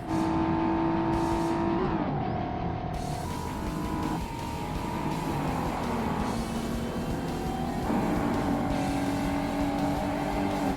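Race car engines roar continuously in a Forza Motorsport Z Cars Challenge race on Xbox, with a steady loud engine drone that shifts pitch as the cars upshift and accelerate, with no talk over it.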